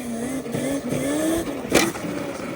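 A HillMiles MilePop electric dirt bike being ridden, its motor giving a rising and falling electric whine over steady wind and tyre rumble, with a brief louder burst near the end.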